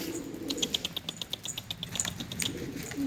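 A feather-footed wild pigeon with an injured foot, in a run of quick, fairly close chirps and wing flutters over a steady low background.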